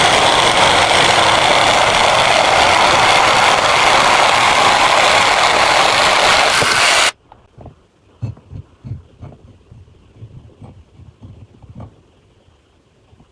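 A Makita DJV181 cordless jigsaw with a thick Festool blade, pendulum off and speed high, saws loudly and continuously through wood for about seven seconds, then stops, leaving faint scattered clicks.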